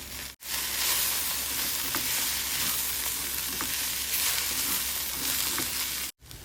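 Okra fries in a kadai with a loud, close, unbroken sizzle and occasional soft stirring taps, cutting off briefly at the start and near the end.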